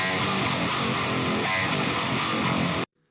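A dense, harsh electric guitar tone with an unnatural, hollowed-out character plays continuously, then cuts off abruptly into silence.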